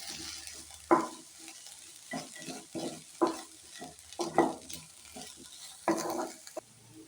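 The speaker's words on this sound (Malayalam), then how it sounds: "കുറച്ച് കറിവേപ്പില കൂടി ചേർത്ത് നല്ലോണം മിക്സ് ആക്കി എടുക്കാം." A spoon stirs potato garlic fry with curry leaves in a hot pan, a series of close scraping strokes over a soft steady sizzle, about a dozen in a loose rhythm.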